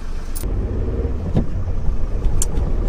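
A car driving along a road, heard as a steady low rumble of engine and road noise from inside, with a few faint clicks and knocks over the top.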